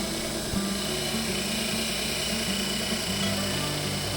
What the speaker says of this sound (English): I bring it over to the disc sander and clean up the edges